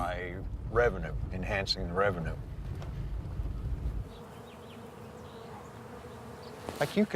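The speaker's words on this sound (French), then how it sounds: "Pour John Miller, le bruit des abeilles est le bruit de l'argent" Flying honeybees give off a steady, dense buzzing hum, first under a man's speech in French and then alone as a continuous drone.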